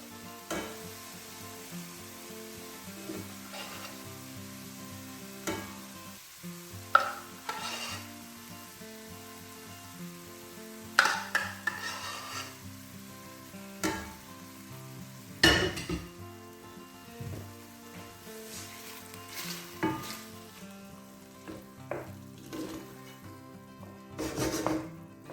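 Chicken for a Chinese chicken curry sizzles quietly in a pan, a steady low frying hiss broken by occasional scraping stirs and clinks of a utensil against the pan.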